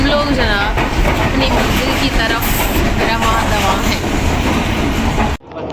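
Train at Lahore railway station, a loud, continuous rumble and rattle of railway carriages that carries on without a break and cuts off abruptly near the end, with voices mixed into the noise.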